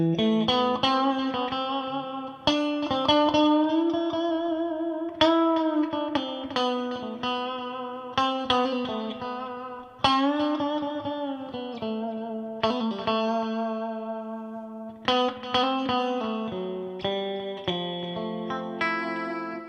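Electric guitar played through an echo effect pedal, picked phrases and sustained chords ringing out with repeating echoes and distortion, loud and close, with no voices.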